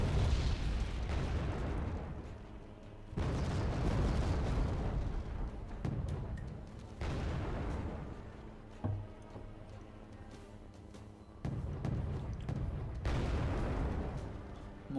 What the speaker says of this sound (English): Just laying off another barrage.